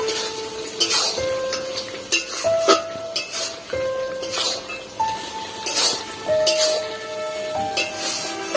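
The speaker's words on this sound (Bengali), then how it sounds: "এখন ভালো করে কষিয়ে নেব" Country chicken curry with chili paste being sautéed in a pan, with scattered clinks and scrapes of a utensil against metal and a light sizzle beneath soft background music.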